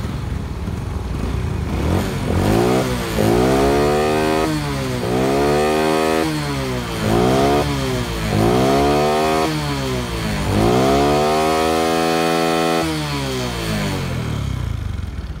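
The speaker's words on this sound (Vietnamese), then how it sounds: "Máy đang nổ." A 2006 Honda Future Neo motorcycle engine revs repeatedly, rising and falling in several loud throttle pulls close by, with no talk over it.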